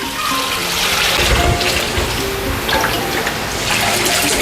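Cooled brine poured from a container into a bucket holding a brisket, a steady close splashing and trickling wash of liquid that runs unbroken throughout, with no talk.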